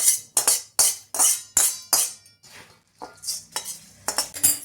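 A spoon scrapes and clinks against a bowl as finger millet chivda is tossed with hot oil, a series of sharp rhythmic strokes with brief pauses, close and alone.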